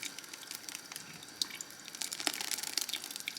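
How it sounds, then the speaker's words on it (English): Birria sauce is poured slowly through a strainer sitting over a pan, giving a steady, close trickle and splash of liquid with a few louder drips, alone without voices. "you are just going to slowly pour it in"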